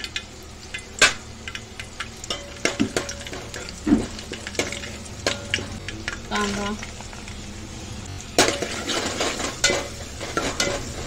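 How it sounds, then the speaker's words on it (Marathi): Curry leaves crackle in two ladles of hot oil in a pot for a surmai fish curry, with sputtering bursts mixed with repeated metallic stirring clinks and scrapes at close range. "आपण फोडणी देऊन घेऊया। कढीपत्ता"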